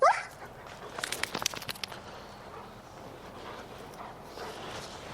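A hyperactive dog in a training session barks in a short burst of several sharp yaps, fairly close, then goes quiet against low room noise.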